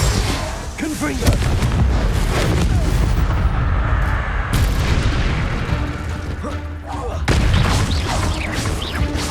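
Confringo blasting spells explode again and again in Hogwarts Legacy, a loud, dense barrage of booming blasts that rumble almost continuously with brief surges.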